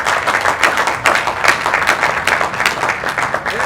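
An audience at a church gathering in Kinshasa applauds and cheers for Jesus, a dense, continuous wash of clapping from a nearby crowd.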